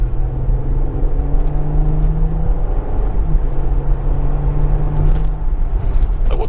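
A 2020 Porsche Cayenne S engine drones steadily from inside the cabin while driving on a road, a loud, even low rumble with a faint whir and no talking.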